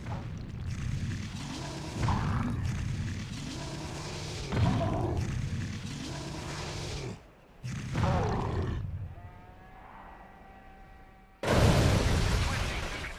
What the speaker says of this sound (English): I wanted to land on the gas station so I could cause the entire thing to explode.